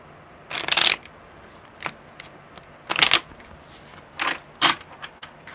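A deck of tarot cards is shuffled in a series of short, crisp riffling bursts separated by pauses, close by and moderately loud with no talking.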